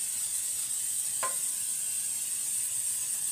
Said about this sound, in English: let's spray it with some olive oil.